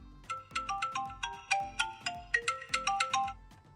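An iPhone X plays its ringtone, a quiet, bright melody of quick plucked notes repeating in a steady, bouncy rhythm, with no voice over it.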